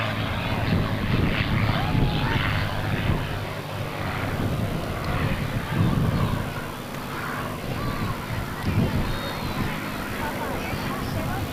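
A P-51D Mustang propeller fighter flown by Jim Beasley Jr. makes a pass at the 2004 Atlantic City airshow, its engine a sustained, loud broadband roar that swells and eases over about eleven seconds, with voices faintly underneath.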